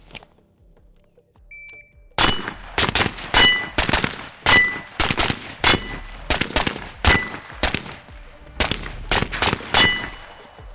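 AR-15 rifle shots at close range on steel targets outdoors, a dozen or so loud cracks in an uneven rhythm, each followed by a ringing metallic clang.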